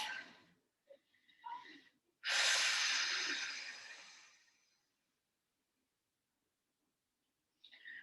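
Breathing during a pilates workout, with a short snort and small breaths, then one long, loud, close exhale lasting about two seconds that fades out into silence, and a brief breath at the end.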